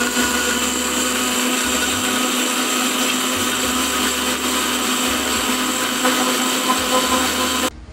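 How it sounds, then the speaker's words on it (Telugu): A mixer grinder blends custard powder milkshake with ice, a loud, continuous whirring drone that runs steadily for several seconds and then cuts off abruptly right at the end. "ఇది మళ్ళీ ఒకసారి మిక్సీ పట్టుకుందాం."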